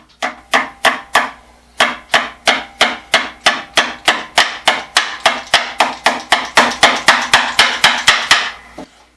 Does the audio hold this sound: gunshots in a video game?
no